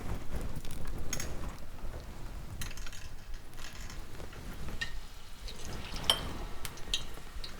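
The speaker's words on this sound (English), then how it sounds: "Continue frying them on a low to medium flame till they are golden brown and cooked right through." Batter fritters fry in a pan over a low to medium flame, giving a soft, continuous sizzle and crackle with a few brighter pops, quiet and close, with no talk.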